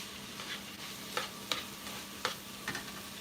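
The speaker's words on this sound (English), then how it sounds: "We'll be giving our shito a good stir." Shito sauce frying in a pan and being stirred, a soft continuous sizzle with several sharp scraping clicks from the spoon, quiet and close.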